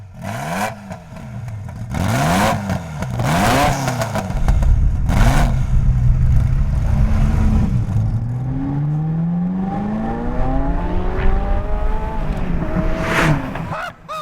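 Ferrari F40 engine accelerating hard on the road, revving up through several gears in repeated rising sweeps, loud and close with no talk.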